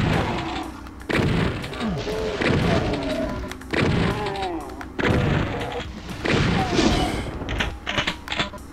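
A rocket launcher fires in the Doom video game, followed by explosions. Loud booming blasts and thuds repeat about every second or two, with game sounds layered between them.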